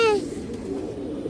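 Pigeons close by give a cooing call that opens with a sliding tonal note, against a low steady murmur of the loft. The birds include colourful fancy breeds such as Bagha pigeons.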